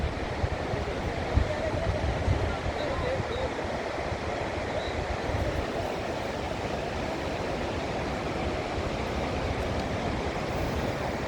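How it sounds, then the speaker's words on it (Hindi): Meltwater from the Brixsdalsbreen Glacier in Norway pours down the mountainside as a waterfall, giving a steady, unbroken broadband rush that holds even and fairly loud throughout, with no speech over it. "तो आबशार की शक्ल में जो है ना पहाड़ों से नीचे पानी गिर रहा है"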